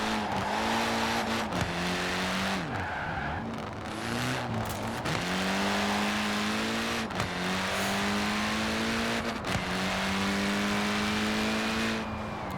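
A Fiat X1/9 launches and accelerates hard in Forza Horizon 4, its engine revving up through several gear changes, pitch climbing, dropping and climbing again, loud and close with no talk.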